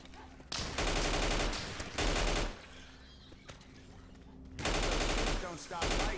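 Bursts of rapid automatic gunfire from survivors mowing down zombies in Left 4 Dead 2, loud sustained volleys broken by short lulls of quieter game ambience, with a voice briefly speaking.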